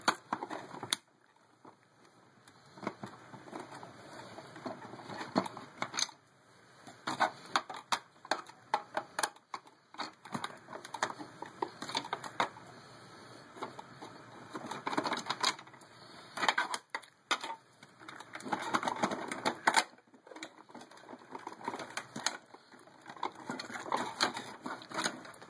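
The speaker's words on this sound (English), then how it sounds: "You need a Phillips screwdriver to do this. Sensor isn't in there that far, but I'll take out a few screws." A Phillips screwdriver backs screws out of a Hoover Wind Tunnel vacuum cleaner, giving close, faint plastic clicks, scrapes and rattles that come irregularly over a steady background hiss.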